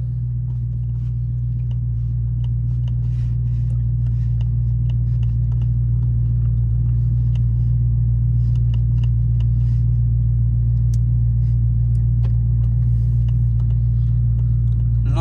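A Dodge Charger Hellcat engine idles with a deep, steady, loud rumble that holds unbroken throughout, close by with faint clicks and rattles over it.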